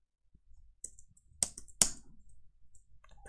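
Sparse, quiet key clicks from typing on a computer keyboard in a quiet room. A few sharper, louder strokes stand out among lighter taps.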